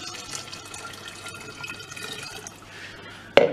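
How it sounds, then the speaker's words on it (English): Water trickling and dripping onto a vinyl record during a dewarping repair, a steady, close, soft pour lasting a few seconds and ending with a sharp click. "This is water addition number two."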